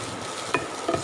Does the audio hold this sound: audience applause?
no